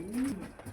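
Chua Chandan pigeons cooing in a loft, one short low coo close by, faint against a quiet room.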